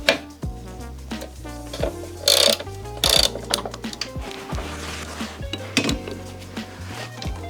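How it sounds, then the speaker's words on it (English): Ratchet wrench clicking as a 12mm socket is worked loose during a T56 transmission and clutch master cylinder install on an FRS/BRZ/86, with bursts of metallic ratcheting and clinks of tools nearby, no talking. "I'm going to go ahead and get this 12mm socket off."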